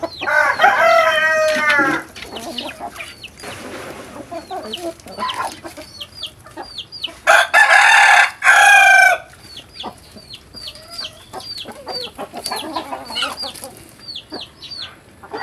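Chickens at a home yard cluck repeatedly throughout, with a loud rooster crow standing out near the middle and another shorter burst early on, fairly close and without talk.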